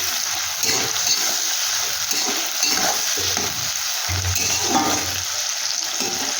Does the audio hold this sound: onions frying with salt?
yes